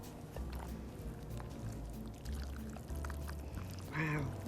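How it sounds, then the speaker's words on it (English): Pie filling pours from a bowl into a pie pan in a kitchen, a soft, faint sliding and glugging sound with a small wet plop near the end. "Let's pour it in."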